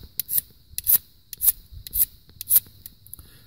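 A steel Bishop single bevel broadhead is stroked across a DMT diamond sharpening stone, giving about seven close, crisp, rhythmic scraping passes with short quiet gaps between them and no talking.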